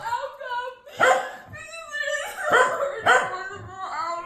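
A dog makes voiced yips and whimpering bark-like sounds in several short bursts, close and fairly loud, with a talking-like vocal quality throughout.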